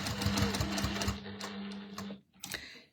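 A sewing machine runs in a steady close whir while stitching binding onto a festive quilted table mat, then stops briefly and gives a short final burst of stitches.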